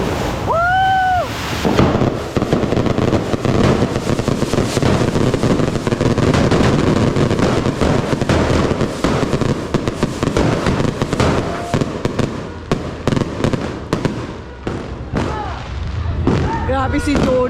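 New Year's fireworks and firecrackers burst nonstop in a dense barrage of loud, sharp cracks and booms, some near and some farther off, with whistling rockets and people's voices shouting and talking throughout.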